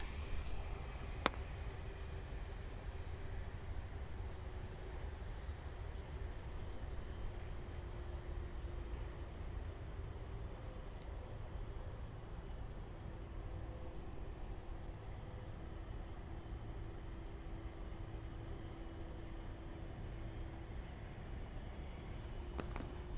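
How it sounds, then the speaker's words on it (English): Airliner jet engines at Miami International Airport roar as a steady, distant broad rumble with a faint whine, sustained and fairly even, with no talk over it. "Hopefully we get a nice turn and burn. Listen to those engines."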